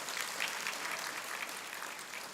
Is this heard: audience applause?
yes